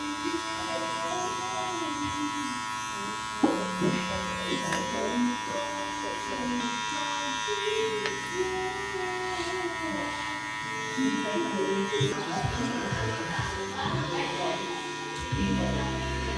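Electric hair clippers buzz steadily while cutting a rough, basic fade haircut with 0.5 and 0.7 guards, the motor drone running continuously and shifting in pitch as the blade works through the hair, with someone talking over it.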